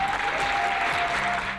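A brief burst of audience applause at a civic forum in Khabarovsk, a dense crowd clapping in a hall with a faint steady tone underneath.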